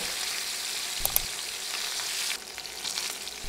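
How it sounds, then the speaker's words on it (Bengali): Koi fish sizzle steadily in hot oil in a pan, a dense crackling hiss with a few sharper spatters near the start and a slight drop in intensity partway through. "সবগুলো মাছ উল্টিয়ে দিয়ে এখন এ পাশও 2 মিনিটের মতো ভেজে নেব।"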